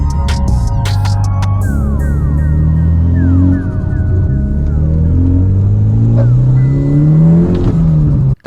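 A car, just back from repair work on its clutch and still awaiting brake repairs, accelerates hard on a test drive; the engine note climbs loud and close through repeated gear changes, running steadily for the whole stretch with no voices.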